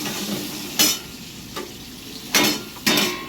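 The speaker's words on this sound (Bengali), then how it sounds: "পেঁয়াজ কুচিটা দিয়ে ভালো করে নাড়তে থাকছে" Chopped onion added to frying potatoes for a potol chingri dish, a constant close sizzle punctuated by three or four loud scraping stir strokes against the pan.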